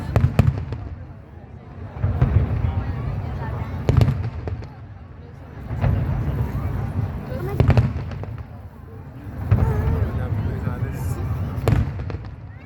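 Fireworks from a pyromusical competition boom one after another, roughly every two seconds, echoing at a distance over the seaside at Mall of Asia while a crowd chatters and voices talk throughout.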